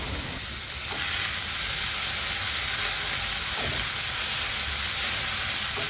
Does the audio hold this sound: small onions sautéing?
yes